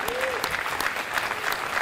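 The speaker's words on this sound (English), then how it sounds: "Let's give a round of applause for Manhasset, for the Hop Park community." A community audience at a superintendent's retirement celebration claps steadily and densely throughout, a brief whistle rising at the start.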